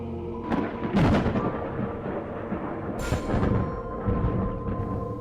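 Thunder rumbles through a storm sound effect in a Marathi horror podcast set on a haunted island. Heavy, continuous rolling fills the scene, with louder cracks breaking through about a second in and again a couple of seconds later.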